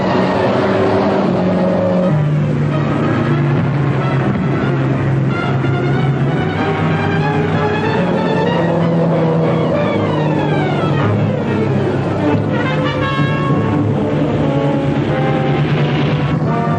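Engine of a souped-up getaway car roaring at speed during a 1940s chase, loud and continuous with shifting revs, mixed with dramatic orchestral film music throughout.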